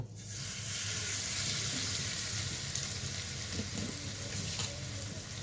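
Chhana hisses gently in a little ghee in a kadai, a soft continuous sizzle with faint low clatter from the pan, steady throughout and with no voice.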